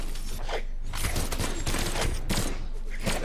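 Rapid gunfire from gun combos in the Brawlhalla fighting game crackles in dense, close bursts that run almost without pause.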